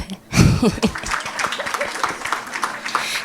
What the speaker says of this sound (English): How I expected you to clap.